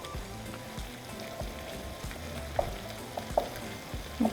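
Flour stirred into beef grease in a pan: a quiet, low sizzle under soft scraping strokes in a slow rhythm, with a few sharper clinks of a utensil against the pan, no one talking.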